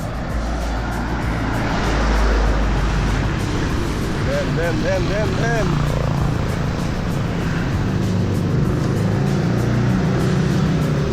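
Car traffic passes along a Jakarta street with a loud, continuous low roar and engine rumble, while people talk nearby.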